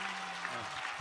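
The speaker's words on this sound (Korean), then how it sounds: "박수!" Applause from an audience at a Korean political press conference, a steady dense wash of clapping held at an even level with no voices standing out.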